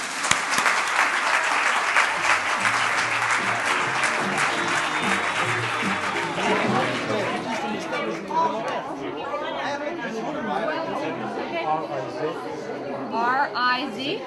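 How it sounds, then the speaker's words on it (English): Warm audience applause at a book talk for author Deborah Scroggins, clapping strongest at first and gradually thinning while people begin chatting over it. "A warm applause for Deborah."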